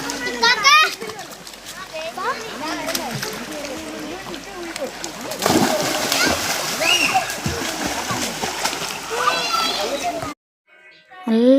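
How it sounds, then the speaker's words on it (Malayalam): Children splash loudly while bathing in a river fed by springs. Lively shouts and chatter from many kids ride over constant nearby splashing, and the sound cuts off abruptly near the end. "പിന്നെ കുട്ടികളൊക്കെ ഇറങ്ങി അടിപൊളിയായിട്ട് അവർ കുളി തുടങ്ങി."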